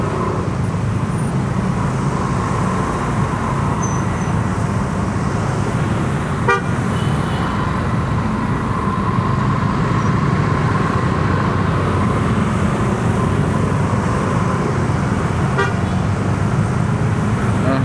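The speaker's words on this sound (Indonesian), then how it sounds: "kondisi lalu lintasnya macet banget di sini" Heavy, jammed road traffic in Jakarta near light-rail construction, with drizzle beginning: a constant loud roar of engines, with short car horn toots popping out at two points and no talk.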